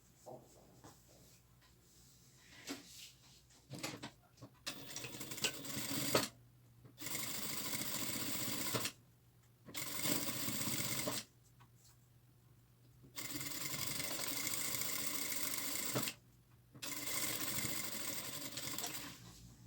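A sewing machine stitches the sides of a fabric placemat with a plastic layer, in bursts of steady motor whir separated by short pauses, close and alone.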